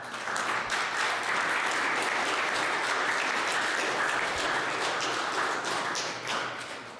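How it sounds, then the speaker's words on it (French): A church congregation applauds during a baptism at a Sunday Lenten Mass, a dense, steady wash of many hands clapping that carries on throughout and softens slightly at the close. "Vous pouvez applaudir pour eux."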